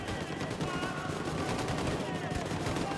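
Dense video game gunfire, a war-like barrage of rapid shots and bursts running continuously at moderate loudness, with a voice talking over parts of it.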